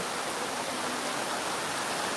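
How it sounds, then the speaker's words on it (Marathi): Very heavy cloudburst rain pours down steadily in Pirachi Kuroli, a dense, loud, unbroken hiss with no pauses or other sounds standing out. "खूप मोठा पाऊस पाणी इथं सुरू आहे"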